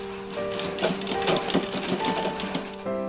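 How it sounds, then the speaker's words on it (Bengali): An electric sewing machine stitching fabric for a petticoat gives a close, rapid whirring rattle that runs steadily, with a short pause near the end before it starts again. "এই দেখো পুরোটা আমরা সেলাই করে নেব।"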